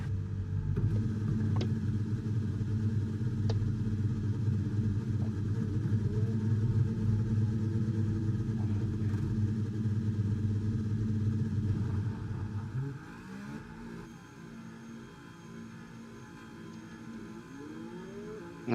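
Race car engines in a racing video game hold a loud, steady low roar, then drop to a quieter idle partway through.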